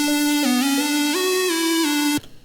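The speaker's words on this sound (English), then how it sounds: "little sine pluck, and it's doing a melody like this" A clean, tonal sine pluck synth in FL Studio plays a short stepping melody of sustained notes that cuts off abruptly near the end.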